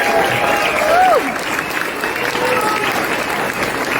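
Audience clapping at a Silverchair Frogstomp 30th anniversary panel in Sydney, a dense steady burst of applause from a crowd filling the room, with a few whoops over it.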